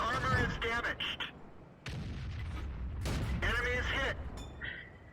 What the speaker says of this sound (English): I just saw an artillery shell come down at me